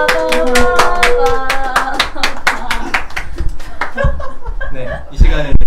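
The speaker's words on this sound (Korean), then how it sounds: "우리 박수로 환영하도록 하겠습니다" Clapping rings out in a small Korean gathering welcoming a new staff member at a completion ceremony, sharp distinct handclaps at close range mixed with chuckles and light laughter, thinning toward the end.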